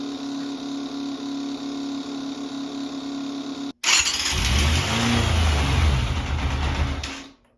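A Grand Prix motorcycle engine runs with the choke on. A steady idle drones loudly for a few seconds, then breaks into louder, rougher revving that rises and falls before cutting off.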